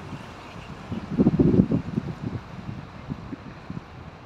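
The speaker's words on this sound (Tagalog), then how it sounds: "Mahangin siya." Wind gusting through an open city park, a broad low rumble and buffeting that swells to a louder gust midway, then settles into a steady, moderate blow with fluttering microphone noise.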